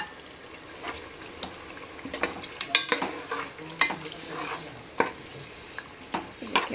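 Milk goes into chicken cooking for biryani and a spoon stirs it through, making scattered scrapes and clacks over a faint, low bubbling sizzle, fairly quiet and without talk.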